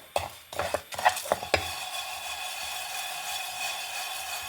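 Sesame seeds with chana dal and urad dal dry-roasting in a pan, with a few sharp scraping stirs of a spatula early on and then a soft, faint, steady rustling hiss.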